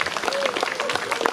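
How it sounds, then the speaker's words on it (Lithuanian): An audience at an orchestra concert claps for the orchestra's director: dense, brisk applause from many hands close by, with a voice briefly audible over it. "mano buvęs mokytojas Sigitas Jakštonis, jam atskiri plojimai su ovacijom."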